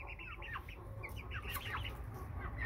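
A young Bresse cockerel, 26 days old, clucking in a run, a soft stream of short chirpy clucks close by and quiet, with no talking.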